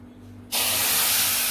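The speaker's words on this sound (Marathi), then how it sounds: "आता आपण हे दूध गरम केलेलं आहे त्याच्यामध्ये घालूया" Hot milk hits roasted semolina for mango sheera, setting off an abrupt loud sizzling hiss that starts suddenly after a quiet moment and holds steady.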